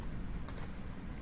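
A web address typed on a computer keyboard, a couple of quick, faint key clicks close together against a low background hum.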